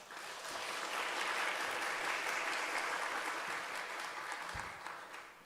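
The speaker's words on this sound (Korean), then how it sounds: "이른 아침부터 은혜로운 말씀 전해주신 안용성 목사님께 다시 한번 감사의 박수 부탁드립니다" Steady applause from an audience of school staff thanking a pastor at an early-morning retreat worship service in a chapel. It swells, holds for several seconds, then tapers off, sounding soft and somewhat distant.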